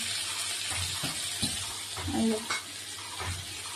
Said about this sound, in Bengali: এই মা এখানে রান্না করছে, দেখো এই রান্না করছে